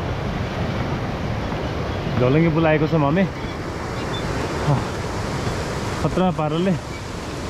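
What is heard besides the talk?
swollen stream of water flowing from Gosaikunda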